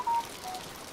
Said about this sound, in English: Is that your fucking phone?